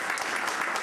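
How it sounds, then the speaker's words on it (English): A brief burst of audience applause at a civic gathering, a dense and steady clatter of many hands clapping together, loud and continuous. "If we can give her a round of applause."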